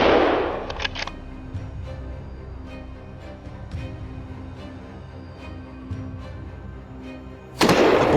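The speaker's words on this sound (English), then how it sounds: "The first shot rang out, boom, breaking the stillness of the forest." A rifle fires during a wild boar hunt in a snowy forest: a loud blast opens, quiet woodland stillness follows, and a second sharp burst cracks near the end.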